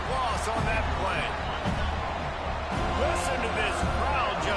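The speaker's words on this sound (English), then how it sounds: "Listen to this crowd just shaking the girders of this place, trying to help their defense." Stadium crowd roaring in the College Football 26 video game, a dense continuous wall of cheering that stays loud throughout, with commentary voices speaking over it.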